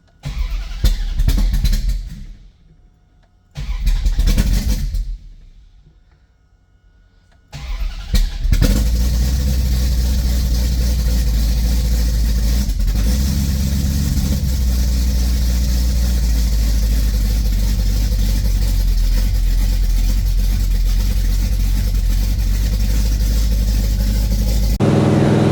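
An engine fitted with an Aces EFI Wildcard 2 fuel injection system cranks in two short bursts separated by silence, then catches and runs loudly and steadily, revving with a strong low rumble until the end.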